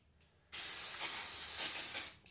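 A short, close hiss of aerosol cleaner sprayed onto a very dirty engine piston from a Peugeot 308 1.2 PureTech, one steady burst lasting under two seconds after a faint moment of quiet.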